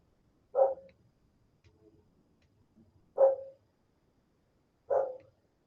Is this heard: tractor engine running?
no